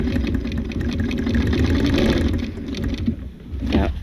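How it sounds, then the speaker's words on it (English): Quilting machine stitching in the ditch on a vintage quilt, a close, steady mechanical hum and rapid needle chatter running almost continuously, briefly dipping before resuming. "we're going to stitch in the ditch, and then we're going to do the swirls"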